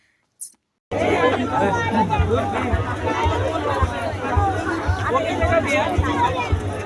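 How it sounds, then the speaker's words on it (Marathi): Dense crowd chatter fills a packed Saturday festival ground at the Dahanu Festival, a steady close babble of many voices after a brief opening silence, with a low constant hum running underneath. "बघू शकता तुम्ही इतकी गर्दी होती शनिवार होता त्यामुळे खूप जास्त गर्दी होती"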